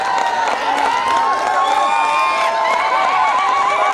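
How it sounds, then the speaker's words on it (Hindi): A school audience at a stand-up comedy show cheers and shouts in a dense, continuous crowd roar, with applause mixed in throughout. "एक बार तालियां हो जाए प्लीज।"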